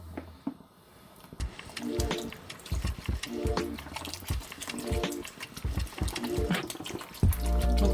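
Water poured from a tap into a pot for cooking a kilo of spaghetti, a steady rushing stream with clanks and knocks of the pot, running continuously at close range with a low hum underneath.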